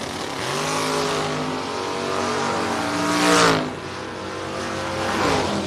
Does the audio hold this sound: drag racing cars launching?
yes